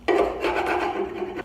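Debris is scraped off the underside of a lawn mower deck with a rough, rasping scrape. It comes as a few close, loud strokes with no speech.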